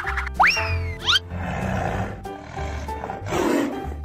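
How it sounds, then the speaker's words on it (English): A tiger's roar, shown as a pair of rising growling calls up front, followed by noisy rumbling that lasts to the end, with no speech. "Tiger."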